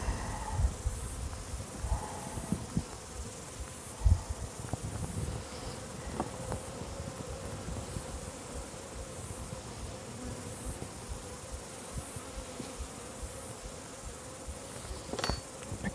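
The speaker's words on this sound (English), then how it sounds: "so once you've got your jar of bees" A jar of honey bees buzzes steadily and close up, a dense continuous hum with a few sharper individual wingbeat surges, with no talking.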